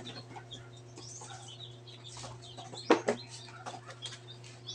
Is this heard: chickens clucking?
yes